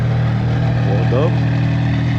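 A Ford Mustang GT500 in Avalanche Gray rolling up at a cars and coffee meet, a steady low engine drone, close and even throughout the short moment.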